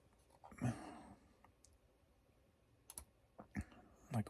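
Computer mouse clicks in an office setting: a few sharp, quiet clicks scattered across a few seconds, some in quick pairs, with a soft breath or sigh near the start.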